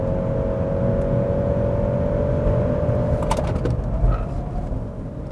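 Steady road and engine roar from a 2022 Genesis GV70 SUV cruising at high highway speed, a dense continuous interior rumble with a faint tonal whine, loud and unbroken throughout.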